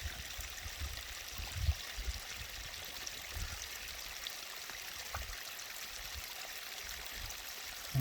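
A small freshwater stream flows steadily beside a puddle with a soft, continuous rushing trickle, even and moderately quiet throughout with no voices.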